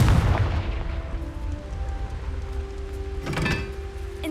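A Confringo fire spell blasts in Hogwarts Legacy on PS5, a heavy rumbling boom at the start that trails into crackling, with a second whooshing burst near the end over a humming backdrop.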